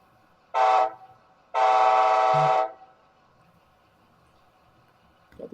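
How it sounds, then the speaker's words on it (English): Amtrak K5LA horn from the sound system of a Bachmann model train, two blasts, a short toot and then a longer sustained blare, clear and close with quiet gaps around them. "we got the classic Amtrak K5LA"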